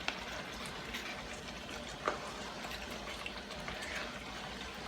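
Curry chicken simmers in a pot after a cup of water is added, a steady close bubbling and sizzling with a faint clink partway through and no voices.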